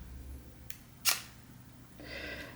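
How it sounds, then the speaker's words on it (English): A Kiev 4a rangefinder camera shutter fires at 1/50th second, giving a brief, quiet mechanical click near the mic, followed by a softer whirring rattle from the mechanism against a faint background hum. "This is really a very silent camera. This is 1/50th of a second,"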